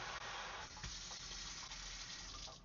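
Water runs steadily from a Moen faucet into the sink of a 2023 Solitude 390RK fifth-wheel RV, a close, full, even gush with no talking.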